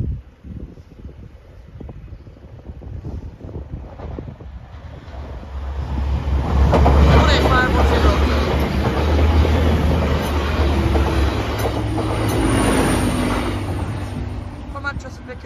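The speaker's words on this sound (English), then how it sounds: "here's a Manchester Piccadilly to Cleethorpes" A Manchester Piccadilly to Cleethorpes passenger train passes a level crossing, its rumble and wheel clatter swelling loud over wind buffeting the microphone, with people talking nearby.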